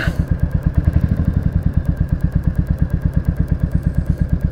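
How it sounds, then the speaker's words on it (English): Royal Enfield Classic 350 motorcycle exhaust thumping in a fast, steady rhythm of close, loud pulses, with clattery popping on each beat and no talking. "See what the exhaust on this Enfield sounds lovely. It's popping and stuff like that."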